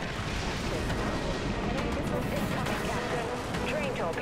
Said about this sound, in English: Goliath torpedo, go